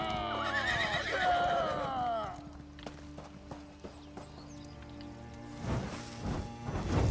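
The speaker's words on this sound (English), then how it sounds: "I don't have to kill horses. I just gotta scare them off." A horse in the Elder Scrolls Online game gives a loud, wavering whinny at the start, then quieter thuds and clip-clop-like game effects follow over a steady low background hum.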